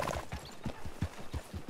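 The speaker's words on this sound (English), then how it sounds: "I hear horses." Horses clip-clop in a western-themed video game, with steady, evenly spaced hoof beats at moderate distance over a low background rumble.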